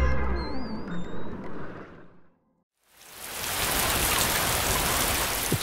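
Steady rain pours down on a cold winter night at a marina, a dense continuous hiss that fills the second half after a brief silence, preceded by quieter mixed ambience.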